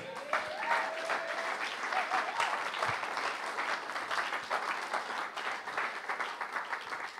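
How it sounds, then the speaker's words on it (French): A church congregation applauds steadily throughout, a dense wash of clapping at moderate distance with some voices mixed in and a brief tone near the start. "Acclame-le encore."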